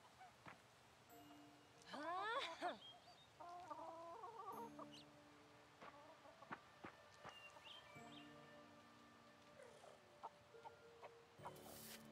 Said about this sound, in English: Those chickens. I think you guys, those chickens just want all the love and the pets.